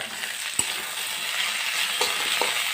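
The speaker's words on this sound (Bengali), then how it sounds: "নেড়ে চেড়ে ভেজে নিতে হবে।" Vegetables for Bengali shukto stir-fried in a pan, with a steady broadband sizzle and a few sharp utensil knocks against the pan, close and continuous with no talk.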